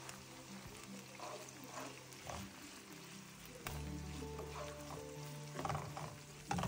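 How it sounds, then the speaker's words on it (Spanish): Bacon frying in a skillet, a soft, steady sizzle with occasional scraping stirs, quiet and close, with a low hum beneath and no talk. "sofreímos la tocineta"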